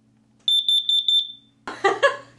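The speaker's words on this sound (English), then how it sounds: "And then we've got the carbon monoxide alarm as well." A test alarm sounds six quick, evenly spaced high-pitched beeps, then a short burst of lower, harsher electronic tones follows.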